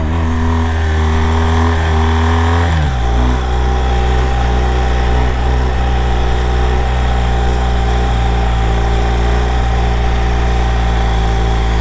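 A BMW 1200 motorcycle engine idles close and loud, its steady low throb briefly dipping in pitch after a few seconds before settling into an even, unbroken idle.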